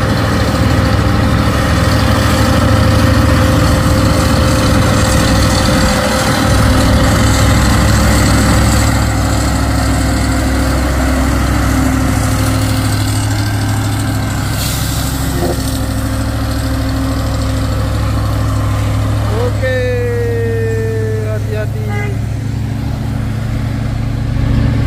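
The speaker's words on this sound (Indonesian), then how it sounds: "Hati-hati di jalan, selamat sampai tujuan. Trailer Hino kontainer." A Hino container trailer truck climbs slowly uphill, its heavy engine droning steadily and loudly throughout, with a brief high whine or squeal rising near the end.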